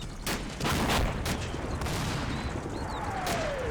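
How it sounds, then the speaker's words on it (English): Repeated gunfire hits a Sherman tank in the Combat Mission Battle for Normandy war game, with several sharp shots and bursts over a steady rumble of battle noise. "Keeps firing into it until it burns."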